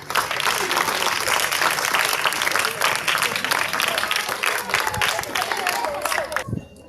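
An audience at a Salvation Army school ceremony claps and cheers steadily, a dense, loud applause that holds for several seconds and then stops abruptly.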